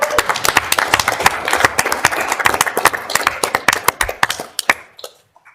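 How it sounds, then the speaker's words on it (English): A short burst of lively clapping and applause from a council meeting audience, dense and close, then tapering off into quiet. "I think that deserves a round of applause."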